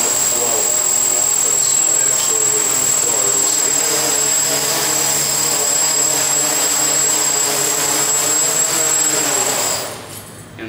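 A scratch-built tricopter skims low over a floor, its motors giving a loud, steady, high-pitched whine that holds for about ten seconds and then drops away as the throttle is cut.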